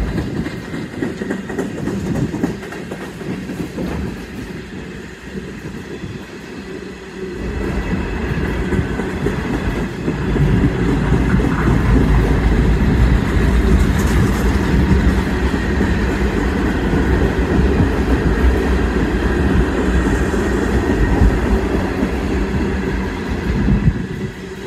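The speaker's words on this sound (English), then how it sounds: "Here comes the three former Amtrak boxcars." Loud, continuous rumble of a northbound Norfolk Southern mixed freight train's boxcars and reefers rolling past nearby, with rhythmic clickety-clack of wheels on rail joints growing heavier midway.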